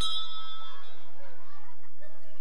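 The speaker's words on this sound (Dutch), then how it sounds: "En samen luidden ze de bel." A school bell rings once with a bright, sustained metallic tone that decays over about two seconds, with faint chuckling laughter around it.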